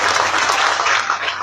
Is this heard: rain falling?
no